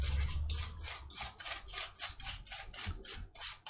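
Brushing grime out of the edges of a MacBook Pro Retina trackpad, heard as close, rhythmic scrubbing strokes, about a dozen short rasping passes in steady succession.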